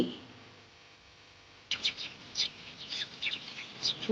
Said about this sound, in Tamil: ஊர்குருவி